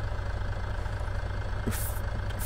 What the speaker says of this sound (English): we're going to keep there actually for that engine sound